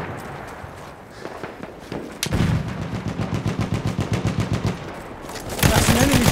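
Enemy machine gun fire in the Battlefield 1 multiplayer map Albion, a rapid rhythmic burst of loud shots lasting a few seconds, preceded by scattered gunfire and followed by more heavy firing.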